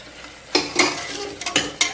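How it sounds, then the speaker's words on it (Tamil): Chopped tomato goes into frying ginger-garlic paste in a pan for mutton curry: a few loud, sharp scraping stirs of a spoon against the pan over a steady sizzle, close up, with no talking. "அது கூடயே இந்த ஒரு தக்காளி அரிஞ்சு வச்சுருக்கேன் இல்லைங்களா அதையும் சேர்த்துக்கலாம்"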